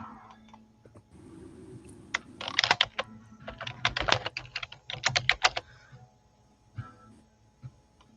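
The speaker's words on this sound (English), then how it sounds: "I'm like typing in." Close-up clicking of fingers typing on a computer keyboard in quick uneven bursts, broken by short pauses, in a quiet room.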